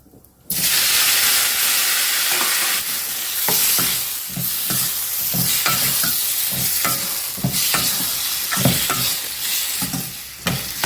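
Eight chopped tomatoes dropped into a hot pan for a spicy kara chutney, loud steady sizzling and hissing with regular stirring and scraping strokes throughout, no speech.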